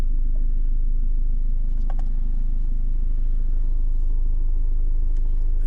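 A manual car sitting in reverse while the driver works the clutch, giving a steady low engine rumble that runs close and even throughout, with a faint clatter about two seconds in and no talking.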